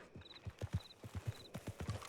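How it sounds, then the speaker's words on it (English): Rhythmic clip-clop of horse hooves in Red Dead Redemption at a trotting pace, close and fairly quiet, with a faint repeating high tone in the background. "let me call my horse over here"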